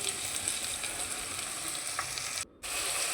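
Tomatoes hit hot oil in a pan of drumstick curry, giving a steady loud sizzle and frying hiss that drops out for a moment before resuming.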